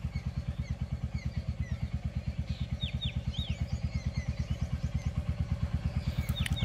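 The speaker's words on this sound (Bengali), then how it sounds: "আর এইখানে আমার বাইক কোল্ড স্টার্ট দেওয়া হয়ে গেছে, কোল্ড স্টার্ট দিয়ে দিয়েছি কিছুক্ষণ আগে।" A motorcycle idles steadily shortly after a cold start on a morning ride near Purulia, its engine thumping in an even, rapid rhythm. Birds chirp faintly in the background.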